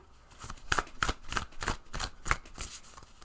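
Tarot cards being drawn and shuffled from a deck, a run of crisp papery flicks and snaps spaced irregularly over a few seconds, close and fairly quiet with no talking.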